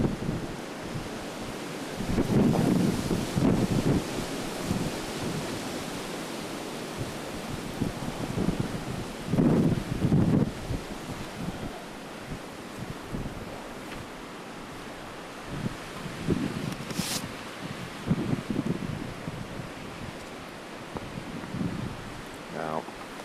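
Wind roars and gusts through a snowstorm outside a house, a steady broadband rush that swells loudly in several surges over a long stretch.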